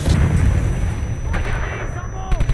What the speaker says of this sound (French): Petit bazooka. Ici. On leur envoie tout ce qu'on a.